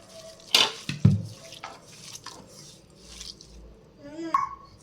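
Fish being mixed with salt in a bowl by hand for a gravy fish curry, with a few clinking knocks against the bowl and soft wet stirring, quiet and close, with faint background voices.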